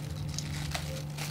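A plastic fridge bag crinkles as it is opened in a home kitchen while bisaria fish are being prepared for pickling. Short close rustling over a steady low hum.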